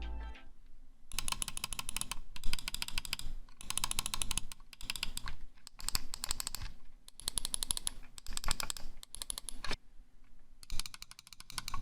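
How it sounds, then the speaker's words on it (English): Clicks from an FL eSports G61 gaming mouse with Omron and KL main switches, quick bursts of rapid sharp ticks separated by short pauses, close and quiet with no talking. "Here's a quick sound test so you can hear the difference between the KL and the Omron main switches for yourself."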